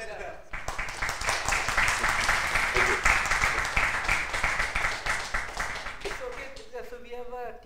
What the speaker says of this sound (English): So let's clap for Zoom and also for Edgar.